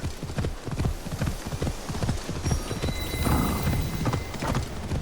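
Horse hooves clip-clop steadily in Assassin's Creed Shadows, a fast rhythmic run of close, loud hoofbeats with a brief whinny-like burst near the end and no talk.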